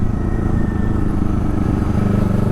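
A 2024 Kawasaki Eliminator 450 motorcycle with a Coffman exhaust rumbles steadily and close, a low engine drone running without a break.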